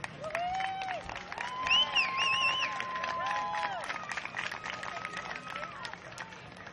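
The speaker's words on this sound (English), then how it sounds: "Let's all give Hardee a round of applause" A crowd at a youth T-ball game between Hardee and Avon Park in Florida applauds with scattered, moderate clapping, mixed with voices and high calls over the top.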